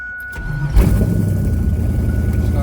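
An 80 Trans Am engine cranks and catches after a quiet moment, then settles into a loud, steady rumbling idle close by.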